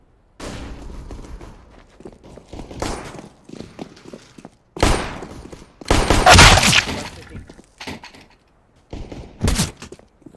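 Flashbang and gunfire in a video game firefight: bursts of shots and sharp impacts come in separate clusters, with the loudest sustained barrage near the middle and more shots toward the end.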